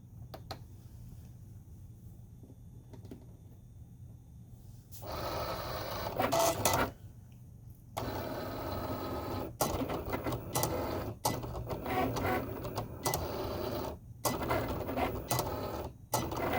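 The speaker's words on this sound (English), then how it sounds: "make sure you have space at the back of your machine so that it has room to cut" Electronic cutting machine slicing iron-on vinyl on a cutting mat, starting with quiet low hum, then motor whirring and carriage movement in irregular bursts with brief pauses, close up and without speech.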